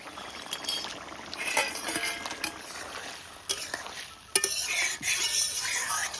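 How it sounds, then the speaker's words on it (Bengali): Fried lentil dumplings are tipped into a simmering vegetable curry in a pan and stirred, with soft clinks of a utensil against metal, scraping, and a faint sizzle, all fairly quiet. "ভাজা বড়িগুলো এবার দিয়ে দিচ্ছি তরকারিতে"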